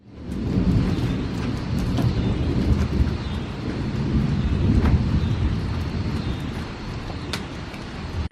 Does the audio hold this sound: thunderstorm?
yes